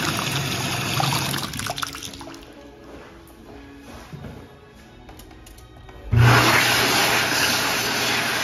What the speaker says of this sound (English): In the back, we have some eXtreme American Dryer